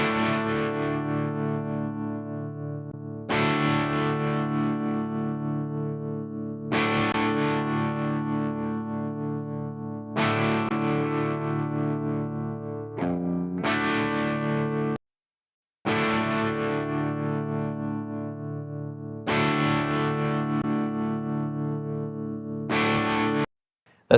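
Electric guitar through an amp with distortion and chorus-like effects, playing repeated sustained chords in roughly three-second phrases, loud and alone with a brief gap near the end.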